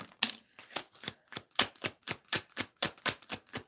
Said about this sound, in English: Get the cards out and then I will deal